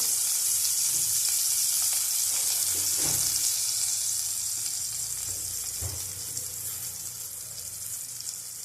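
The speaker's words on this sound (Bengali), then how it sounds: "একটা লঙ্কা দিয়ে দিলাম ফাটিয়ে। ভালো করে লঙ্কাটা ভেজে নেবো।" A green chili sizzles and fries in hot oil in a home kitchen pan while cooking a flat bean dish, with steady crackling and a couple of louder spits and stirring clinks, no talking.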